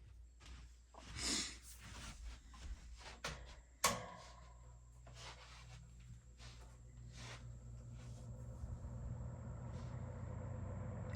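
An old two-speed Dominion box fan starts up after a few bumps and handling knocks, then settles into a steady, smooth low whir that holds evenly to the end.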